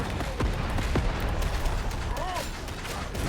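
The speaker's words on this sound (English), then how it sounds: "I'm just going to shoot in vague directions." Video game shooting: a steady clatter of gunshots and mechanical weapon noise with a few heavier booms, fairly loud and continuous throughout.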